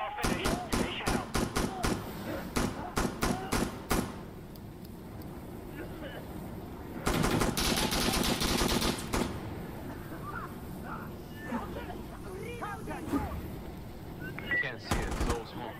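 Bursts of rapid gunfire and single shots ring out in Insurgency Sandstorm, sharp and loud, with a long sustained volley in the middle amid game noise and players talking.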